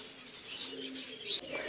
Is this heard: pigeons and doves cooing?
yes